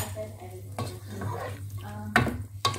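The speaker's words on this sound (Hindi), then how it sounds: "अब इसमें मैं नमक डाल के और इसको पका रही हूँ ताकि ये हाफ कुक हो जाए" Bottle gourd cooks in a pot with salt, giving a soft sizzle and bubbling under a few stirs and sharp clinks of a metal utensil against the pot.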